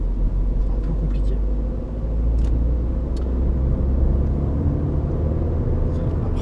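Opel Astra 1.4 Turbo, a 2013 car with a small turbocharged four-cylinder, giving a steady low rumble of engine and road noise inside the cabin while driving, continuous throughout with no clear pitch changes.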